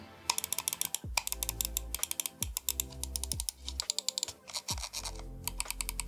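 Rapid mechanical clicking from Ninjutso Sora gaming mouse buttons, a fast run of sharp taps in bursts followed by a few slower, separate clicks, close and crisp.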